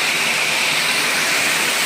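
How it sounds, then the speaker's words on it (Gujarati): Water rushes loudly and steadily through the grounds of a Mahadev temple beside a lake, a dense, continuous churning close by with no voices. "ખડ ખડ ખડ ખડ ખડ ખડ પાણી વહી રહ્યા છે"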